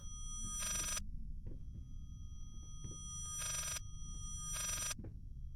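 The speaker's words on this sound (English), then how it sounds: "There's the phone," A telephone rings in the horror game Layers of Fear, sounding three separate electronic bursts in a slow, regular pattern over a low droning ambience, with faint clicks between the rings.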